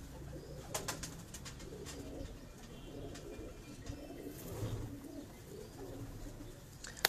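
Pigeons kept on a rooftop cooing, soft low repeated coos close by over a quiet outdoor background, with a few sharp clicks and wing flutters scattered throughout.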